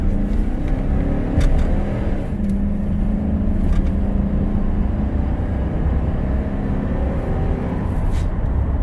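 Chevy Silverado regular cab 4x4 with a 4.8 V8 pulling hard under acceleration, a loud sustained engine drone and rising roar heard from inside the cab, with no talk.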